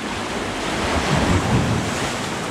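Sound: big ocean waves at a sea glass beach

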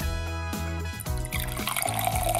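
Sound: water being poured into a container

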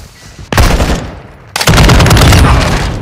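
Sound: gunfire in the video game Call of Duty DMZ

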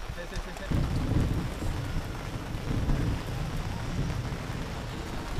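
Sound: passing rain shower

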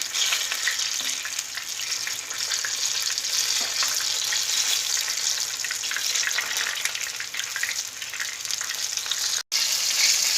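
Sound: eggplant frying in oil

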